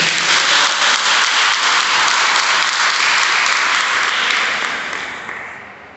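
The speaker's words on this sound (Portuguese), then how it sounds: "Aplauda o Senhor nessa noite" A church congregation claps together during an evening service, a dense, loud, steady wash of applause that holds evenly and then fades away toward the end.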